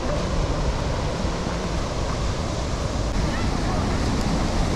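Snowmelt river water rushes past on a hot day by Oregon trails, a loud, steady broadband roar that fills the whole moment without pause.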